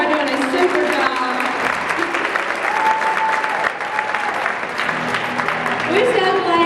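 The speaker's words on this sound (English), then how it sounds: "Let's give them all a big round of applause again." An audience at an elementary school choir dinner theater claps in a dense, continuous round of applause, with some talking faintly mixed underneath.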